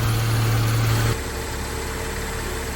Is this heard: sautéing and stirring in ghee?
no